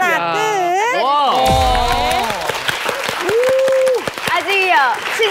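Studio audience applause during a Korean TV variety health show cooking segment, a brief burst of clapping mixed with overlapping talk and exclamations from the hosts.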